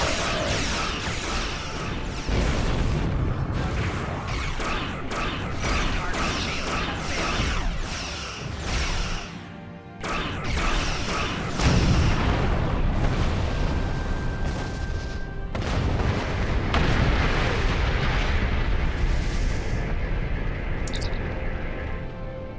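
Starship weapons fire continuously in the Star Trek Online space battle, a dense, loud wash of booming blasts, whooshing beams and crashing impacts overlapping without a break.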